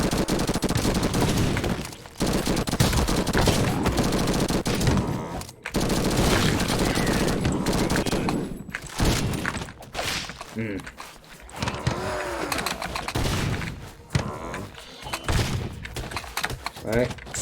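Laser carbine fire in MADNESS: Project Nexus runs as a dense, loud barrage of rapid shots with thuds and impacts. It breaks briefly, then picks up again in choppier bursts, and a voice talks over the action.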